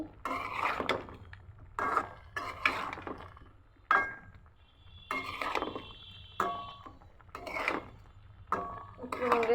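Raw jackfruit being stirred in a cooking pot, irregular metallic scrapes and clinks of a utensil against the pot in separate bursts, with quiet gaps between them.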